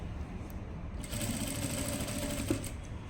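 A sewing machine stitches the hem of a blouse with a steady, close, continuous whirr that grows slightly louder after the first second.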